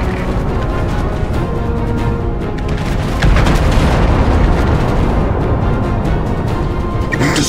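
An enemy battleship blows up in the naval combat game Battlestations, a loud, rumbling explosion that deepens and swells partway through and holds over sustained booming noise.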